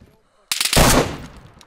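A loud, close burst of rapid gunfire in the survival video game DayZ sounds abruptly after a quiet moment, then trails off in an echoing decay.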